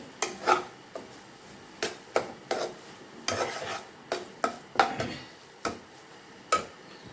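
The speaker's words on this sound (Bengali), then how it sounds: "কুচনো কাঁচা লঙ্কা দিয়ে একটু নেড়ে নিয়ে" Taro flower with chopped green chili is stirred in a pan, giving a series of short scraping, clicking strokes at irregular intervals with a faint sizzle beneath and no talk.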